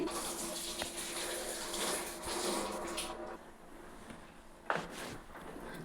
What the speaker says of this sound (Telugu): ఈ నీళ్ళు పోసి కలుపుకోవాలి.